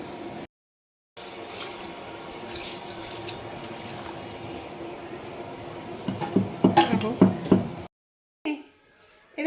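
Water runs from a tap in a home kitchen, a steady splashing stream with brief gaps, growing choppier and more splattery near the end before cutting off.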